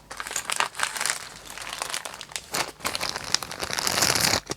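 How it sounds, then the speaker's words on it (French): Bubble wrap crinkles and crackles close up while a gift parcel in Disney princess wrapping paper is opened, a busy, uneven run of crisp pops and rustles that continues throughout. "Donc, je vais ouvrir. C'est de nouveau en papier bulle."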